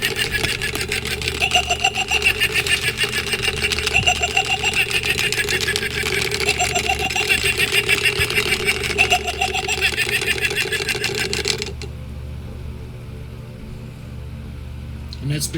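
A 1995 Twinkle 32-inch Janglin' Bones shaking skeleton runs its spinning head motor, making a continuous buzzing, rattling whir under a person talking; the sound abruptly drops to a quieter hum near the end.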